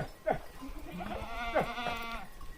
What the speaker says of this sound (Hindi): इनका बकरियों का भव्य दल।